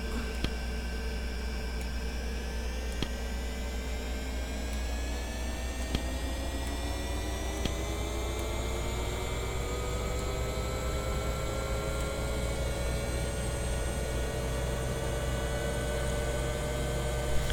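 A Bell 412 helicopter engine throttling up in the X-Plane 11 flight simulator, a steady whining turbine drone with rising tonal whines and a low hum, continuous and even with no talking.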